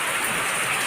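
Heavy monsoon rain pours steadily onto a verandah and nearby surfaces, a dense, even hiss of countless drops close by with no pauses or voices.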